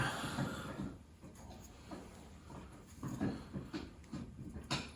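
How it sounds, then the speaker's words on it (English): A dog gnawing on a nylon chew bone somewhere in the background, soft irregular scraping and crunching bursts, quiet and close-ish, with no speech. "got my dog chewing in the background on a nylabone,"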